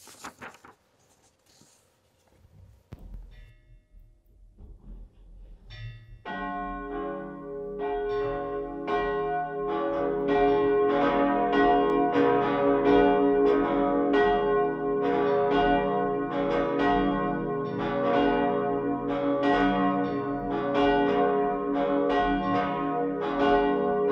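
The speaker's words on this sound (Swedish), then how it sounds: "Och nu lyssnar vi till kyrkklockorna." Church bells peal from a cathedral during a Swedish high mass, starting quietly after a near-silent moment, then swelling into loud, continuous, overlapping ringing that holds steady with a rich, sustained tone.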